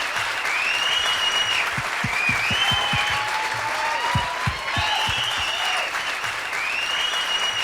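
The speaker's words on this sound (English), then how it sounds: "how about a nice big round of applause for all of our dancers this evening" Audience applause and cheering for the dancers at an evening dance event from a 1988 dance-class program, a dense steady wash of many hands clapping with whistles and shouts riding over it, holding loud for the whole stretch.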